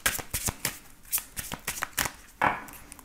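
Tarot cards riffle and slap as they are shuffled by hand before a thirteen-card reading, quick crisp bursts repeating in an irregular rhythm, close and fairly quiet, with no talking.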